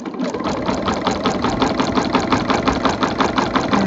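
A sewing machine with a walking foot quilts through layers in a loud, steady, rapid chugging rhythm, close up and continuous, with no talking.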